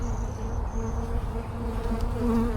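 Steady, dense buzzing of many honeybees close by on a hive frame, a continuous droning hum with no voices.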